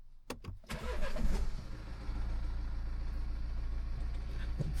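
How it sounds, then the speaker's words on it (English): A BMW X1 F48 with a B47 diesel engine cranks with a few sharp clicks, catches and revs briefly, then settles into a steady, close, low diesel idle with no talking. "Let's see if the vehicle starts."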